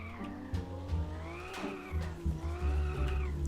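Car engine revving with tires squealing in a drift in the video game Car For Sale Simulator, engine pitch rising and falling over a steady low drone.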